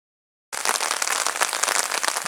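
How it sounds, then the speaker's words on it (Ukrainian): Summer rain begins abruptly during float fishing outdoors, going from silence to a dense, crackling patter of drops that holds steady and close without any voices. "Не встиг я нічого приготувати до риболовлі, почався дощ."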